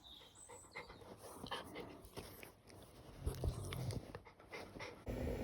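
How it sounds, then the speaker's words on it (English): A tiny lap dog pants in quick, soft breaths close by, with faint rustling and a brief low thump near the end. "He's just a little lap dog."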